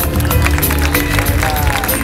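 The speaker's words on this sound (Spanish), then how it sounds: "Aplauso para nuestra modelo." Audience clapping and crowd noise fill an aquarium dolphin show in Havana, a loud, dense wash of applause running steadily throughout.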